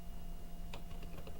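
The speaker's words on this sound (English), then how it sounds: "Now I'll grab my text tool, and I'm going to start typing" Keys on a computer keyboard clicking in a short burst of a few quick taps over a steady background hum, close and fairly quiet.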